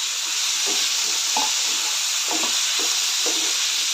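Potatoes and beans sautéed in a pan make a loud steady hissing sizzle, with soft stirring scrapes recurring every second or so and no talking.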